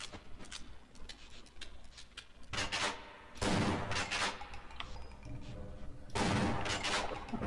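Repeated shotgun blasts in the video game Half-Life, coming in dense loud bursts separated by quieter gaps, with one player talking at times.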